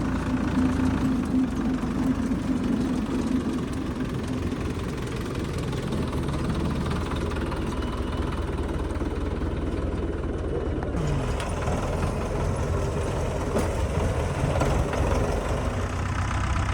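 A heavy Russian tractor engine runs steadily at a low, rumbling idle with a faint knocking rhythm, close by and continuous throughout.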